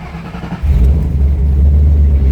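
A 2007 Ford Mustang GT500 with a cammed V8 and TR6060 manual gearbox cranks and fires up, then settles into a loud, deep, lumpy idle with occasional revs, close to the car.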